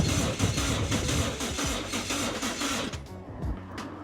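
A JZ engine spins on its starter during a cylinder compression test, with the tester fitted and a little oil in the cylinder. Close, steady rhythmic churning runs throughout and eases slightly toward the end.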